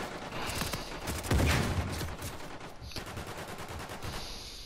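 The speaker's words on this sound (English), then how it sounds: "I just kept shooting here to put pressure on there while the other guy shot." Gunfire from an Aegis gun in a shooter video game: a dense, continuous stream of rapid shots and muffled bursts from fairly close, with one heavier impact partway through and the firing carrying on throughout at steady loudness.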